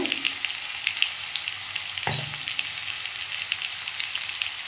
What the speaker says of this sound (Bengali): আমি মূলোগুলো একটু ভেজে নেব।